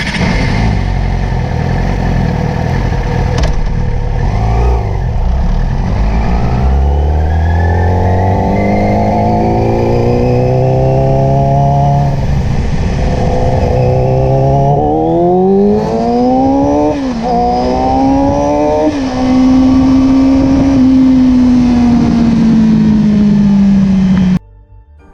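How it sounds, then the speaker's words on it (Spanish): Motorcycle engine revving steadily in low gear during a clutch wear test, loud and close, the pitch climbing and falling through repeated throttle sweeps before holding a high drone and cutting off abruptly. "vamos a ver que el revolucionador va a subir y la velocidad no va a elevarse tan rápido como nuestras revoluciones"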